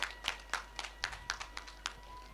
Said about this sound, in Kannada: ಚಪ್ಪಾಳೆ ತಟ್ಟರು ಒಂಜಿ ಕರ ಮೊಂಡು